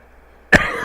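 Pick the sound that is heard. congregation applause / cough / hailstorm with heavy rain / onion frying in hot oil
cough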